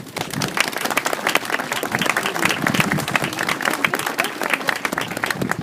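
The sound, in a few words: audience applause at a protest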